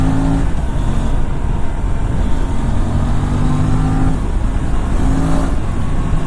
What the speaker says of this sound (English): now I get to experience the actual potential of this bike